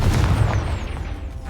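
A Confringo spell in the Hogwarts Legacy video game erupting in one loud, close fiery boom that decays over about a second and a half.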